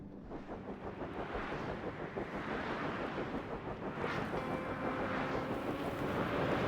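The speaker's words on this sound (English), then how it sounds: "It's blowing a storm." Storm wind blowing across Europa in the survival game Stationeers, a steady broadband roar with gusting surges that builds slightly toward the end, heard alone with no talk.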